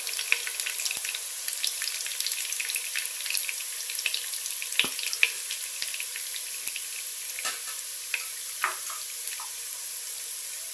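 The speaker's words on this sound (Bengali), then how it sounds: "এই পর্যায়ে দিয়ে দিব পেঁয়াজ কুচিগুলো। এটাকে আমি ব্রাউন কালার করে ভেজে নেব।" Chopped onions fry in hot oil for egg biryani, a continuous bright sizzle with scattered pops and crackles, close and steady throughout.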